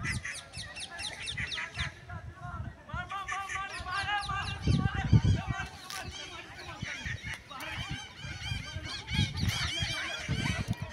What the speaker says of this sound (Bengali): প্রচুর পাখি, বহু রকমের ডাক, বহু রকমের গান